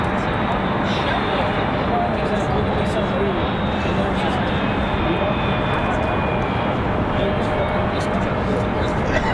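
A Southwest airliner on final approach at Raleigh-Durham International Airport gives a loud, steady jet engine roar that fills the whole stretch, with a faint high whine on top.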